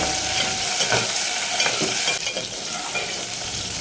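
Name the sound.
frying green chillies in a pan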